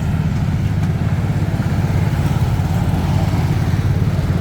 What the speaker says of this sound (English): somebody got a noisy muffler